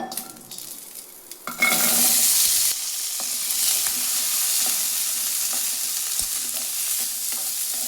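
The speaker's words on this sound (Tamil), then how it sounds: "இந்த அளவுக்கு வெங்காயம் வதக்கிக்கலாம்." Onions go into hot oil in a pan for sundakkai kuzhambu, first quiet clinks, then a sudden loud sizzling burst that settles into a steady close frying hiss punctuated by occasional stirring taps, no talking.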